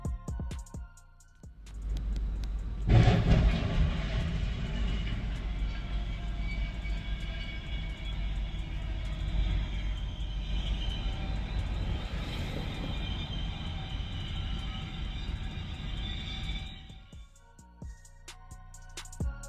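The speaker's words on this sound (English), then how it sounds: "he heard the ominous sound of the incoming train" A train rumbles in and grows steadily louder, a heavy continuous roar with rattling that holds for about fifteen seconds before cutting off.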